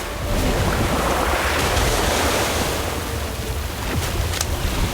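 A water orb spell effect from a Harry Potter video game produces a steady, loud rushing wash of watery noise that surges like surf and fills the whole stretch alone.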